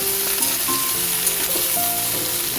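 Halved okra sizzling in hot oil in a pan for a vegetarian Bengali potato and poppy-seed dish, a loud steady crackle and hiss close up, with faint clinks of stirring.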